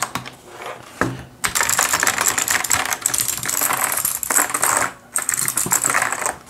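Rapid, dense clicking of keys on a Mexican-branded gaming keyboard, loud and close, in sustained bursts broken by two short pauses, with no talk.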